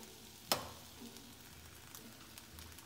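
An egg sizzles and fries in butter in a pan for ramen noodles, a soft steady crackle with one sharp tap near the start, heard up close and alone.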